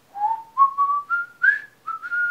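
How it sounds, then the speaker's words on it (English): Melodic whistling from a song, a run of short rising whistled phrases with brief gaps, clear and prominent with no voices. "the whistles, whenever they come in, they just kinda irk me"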